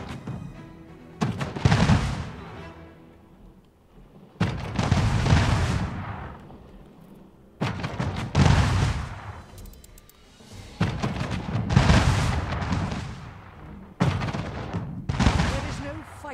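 A ship comes under cannon attack in Anno 1800, with heavy booming blasts arriving in separate bursts every few seconds. Each blast rumbles and fades before the next one hits.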